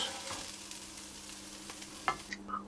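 Peppers for ratatouille frying in a pan, a quiet soft sizzle with a few light clinks and stirring scrapes toward the end, no talking.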